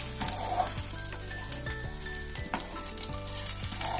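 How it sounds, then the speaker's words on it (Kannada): Coriander seeds fry and are stirred in a pan, a steady close sizzle broken by repeated scraping stir strokes and small crackles, with no voices. "ಚೆನ್ನಾಗಿ ಮಿಕ್ಸ್ ಮಾಡ್ಕೋಬೇಕು. ಚೆನ್ನಾಗಿ ಹುರ್ಕೋಬೇಕು."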